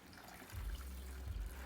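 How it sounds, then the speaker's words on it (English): A small amount of water trickles into ground flaxseed for a detox drink, a soft, close pour with two brief low gurgling surges over a quiet kitchen background. "I'll be adding just a little bit of water"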